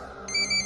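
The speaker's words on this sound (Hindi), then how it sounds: "पुष्कर का फोन बजा।" A phone starts ringing partway through in a quiet room, its steady electronic tone coming in clear and close after a moment of near silence.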